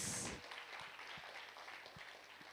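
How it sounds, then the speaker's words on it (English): Applause from an audience at a payments innovation showcase, faint and thin, a short burst at the start fading to scattered distant claps. "A huge round of applause."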